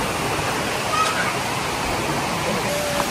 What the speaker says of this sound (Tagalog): So dito mayroong napakalaking ilog dito